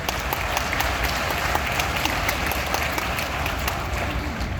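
Dense, steady applause from a large audience at a live stage program in Palakkad, filling the whole stretch with continuous clapping and no voices on top.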